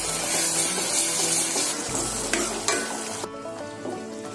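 Spices for garlic- and onion-free chole being stirred in a hot pan, a steady close sizzle with scraping spoon strokes and a few sharper clacks against the metal.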